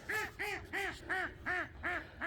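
A goose calls repeatedly in a bird yard, six evenly spaced honking quacks in a steady rhythm, close and fairly loud with no other sounds.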